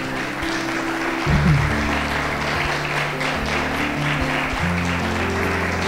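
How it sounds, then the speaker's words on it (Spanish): A church congregation applauds during a sermon, with continuous clapping spread over about six seconds beneath steady low organ or keyboard chords that shift partway through. "Denle un aplauso al Señor por eso."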